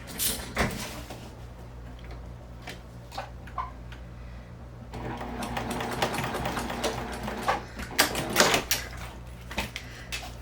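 A sewing machine top stitching vinyl runs in short intermittent bursts of rapid ticking stitches, quiet at first and then louder and busier.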